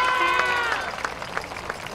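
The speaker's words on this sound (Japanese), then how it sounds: "今一度大きな拍手お願いいたします。" Audience claps for a dance team's award at the Odokko Matsuri festival in 2023, a brief burst of applause that thins out over two seconds while a voice talks through the start.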